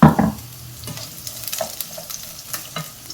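Green chillies drop into potatoes frying in a pan for potato masala, giving a brief sizzling burst at the start that fades into soft crackling and light stirring scrapes, close and fairly quiet.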